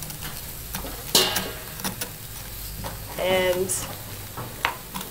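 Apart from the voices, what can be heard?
scraping seeds out of a spaghetti squash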